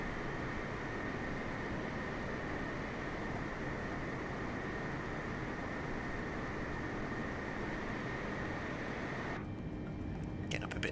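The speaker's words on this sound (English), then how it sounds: "Big old airplane." Boeing 747-8 airliner engines in Microsoft Flight Simulator 2020, a steady broadband roar holding at constant level throughout, with a slight shift in tone near the end and no talking.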